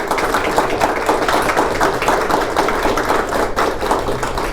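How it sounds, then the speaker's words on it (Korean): Officials clap at the close of an agreement signing ceremony, a continuous, fairly loud round of applause with dense, overlapping hand claps and no pause. "박수 부탁드립니다"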